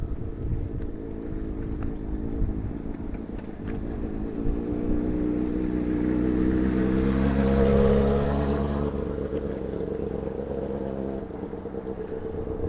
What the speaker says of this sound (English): here comes some of them on a motorbike